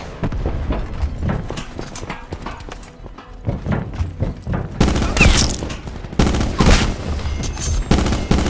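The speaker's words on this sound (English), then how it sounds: "We're taking round fire." Dense volleys of rapid gunfire from a video game battle, with bursts of shots and heavy impacts growing louder and harsher in the second half, continuous and close throughout.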